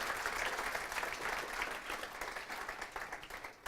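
Audience clapping at the close of a talk on design systems for small teams, a quiet, steady round of many hands that tapers off at the end.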